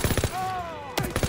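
Rapid AK rifle fire in Call of Duty WW2, short bursts of quick cracking shots at the start and end, with a voice and a rising tone in between.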